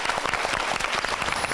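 A Korean talk-show studio audience bursts into dense, steady applause for the actress Kim Bu-seon. The clapping is loud and continuous for the whole short stretch, with no voices on top.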